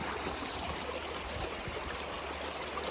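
River water flows steadily around a gold panning spot in New Hampshire, a constant close rushing and gurgling wash with no talking.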